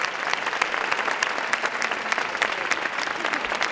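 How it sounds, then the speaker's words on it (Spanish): An audience applauds the guest speakers at a 2018 talk on ethics and public radio and television. Steady, even clapping from a moderate crowd fills the short stretch, with no voices over it. "os voy a pedir un aplauso"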